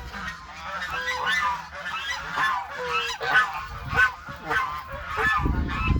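Ducks, hens and pigeons feeding together on grain, with loud repeated honking quacks and clucks in an irregular stream from nearby birds, plus low scuffling toward the end.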